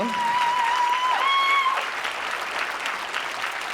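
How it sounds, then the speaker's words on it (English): A crowd claps steadily, a dense wash of applause that holds level and then eases slightly, with a brief sustained tone near the start. "Thanks for clapping."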